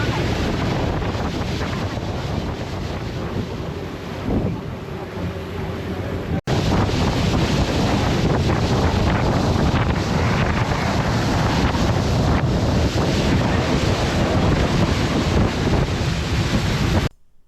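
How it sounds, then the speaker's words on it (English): A small boat crossing choppy water off the Paracas coast near the Ballestas Islands, with heavy wind buffeting and a constant rush of waves and engine noise, loud and steady throughout with a brief break partway. "We were in a small boat, so the water was a bit choppy at times,"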